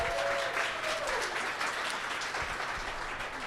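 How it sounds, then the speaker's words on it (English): An audience at a student Demo Day gives a final round of applause for the students, steady clapping filling the short stretch at moderate volume. "one last round of applause for those awesome students"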